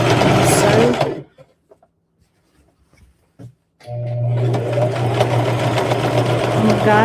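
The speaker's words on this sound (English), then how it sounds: "so now let's just sew" Sewing machine stitching a rag quilt, running loud and steady up close in two bursts separated by a quiet pause with faint handling noises.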